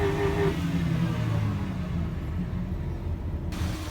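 A work truck idles and rumbles steadily, pushing a Silverado with a rod knock onto a trailer, a continuous low engine drone at close range with no voices.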